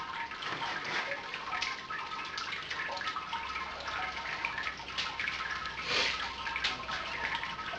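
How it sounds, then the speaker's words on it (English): Sparge water draining slowly through a Brewzilla all-in-one brewing system, a steady close trickle and splash with faint dripping and no voices. "Okay, that's draining nice and slow,"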